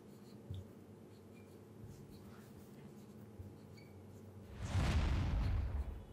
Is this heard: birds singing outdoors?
no